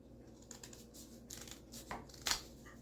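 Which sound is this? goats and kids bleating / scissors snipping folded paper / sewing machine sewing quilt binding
scissors snipping folded paper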